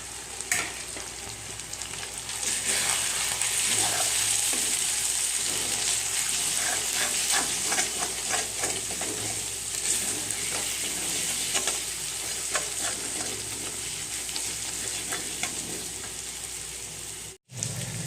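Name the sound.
ground spices frying and stirred for chicken curry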